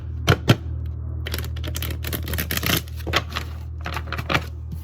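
Tarot cards are shuffled in quick riffling bursts, crisp and close, with a couple of sharp taps near the start and no talking.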